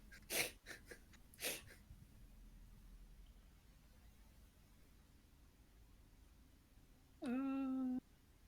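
Two quick sneezes close together in a quiet room, followed after a pause by a brief high-pitched whine.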